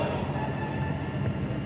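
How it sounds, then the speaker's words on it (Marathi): A long double-engine coal train passes through Curchorem railway station, a steady low rumble of wagons rolling by close and continuous, with no talk over it. "लास्ट पळय double engine train oily Kudchade railway स्टेशनाचेर दिसतलो तुमकां केन्नाय"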